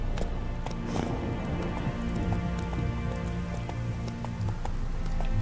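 Rapid, steady hoofbeats of a galloping horse in The Witcher 3 patter continuously over a low rumbling bed, with no talking.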